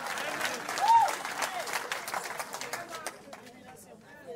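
A church congregation bursting into sustained applause, a dense wash of many hands clapping with voices and cheers mixed in, fading toward the end.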